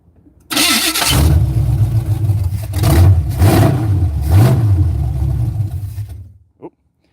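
An old Corvette engine, unstarted for over twenty years, cranks and catches, then runs loud and rough with uneven revving for several seconds before cutting off.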